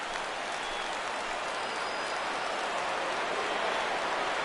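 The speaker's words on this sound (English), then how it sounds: "Crowd gets up for the 3-2." Stadium crowd in MLB The Show 17 during a full count, a constant, even hiss-like roar of cheering and applause at steady volume for the whole stretch, with no talk over it.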